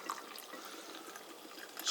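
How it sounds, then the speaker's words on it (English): Strong coffee pours into a mug, a faint, soft, steady liquid trickle heard up close on its own. "strong coffee into a mug, like halfway"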